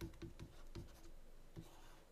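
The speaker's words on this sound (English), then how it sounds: "Let me just write that down." Pen or marker writing a word by hand, several short scratchy strokes at close range, quiet and without talk.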